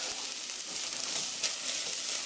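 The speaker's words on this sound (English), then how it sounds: "what I want to do is the black pepper as well as the allspice. I want to cook that. I'm just going to give that a quick stir" Black pepper and allspice toast in a hot pan while being stirred, giving a steady close sizzle with a few light scrapes, and no voices.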